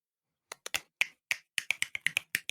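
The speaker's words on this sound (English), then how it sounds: "Finger snaps." A dozen crisp finger snaps, first sparse and uneven, then quicker in a loose rhythmic run, close and clear against silence.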